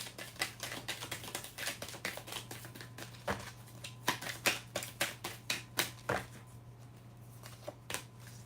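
Tarot cards being shuffled and drawn by hand, a quiet run of soft rapid flicks and taps with a steady low hum beneath.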